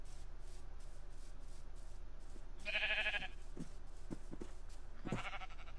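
A Minecraft sheep bleats briefly over a steady game ambience of low noise and soft shuffling, with a couple of faint clicks and another short bright sound near the end.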